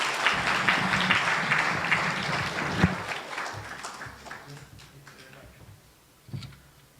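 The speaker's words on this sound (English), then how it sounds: "Another round of applause for Tom." An audience at a Seminole County morning gathering applauds a speaker, the clapping loud and full at first, then thinning and fading into scattered claps and faint room noise.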